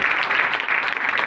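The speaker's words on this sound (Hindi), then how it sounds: "आए जोरदार तालियां सुनिए।" A church congregation claps in a brief, dense burst of applause, many hands at once, steady and fairly loud with no voices over it.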